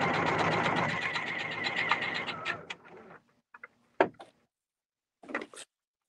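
A sewing machine runs a fast, even basting stitch on dress sleeves for a few seconds, then slows and stops, followed by a few scattered clicks and a brief rustle in an otherwise quiet room.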